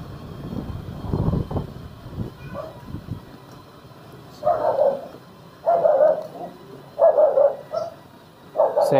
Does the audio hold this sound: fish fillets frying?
no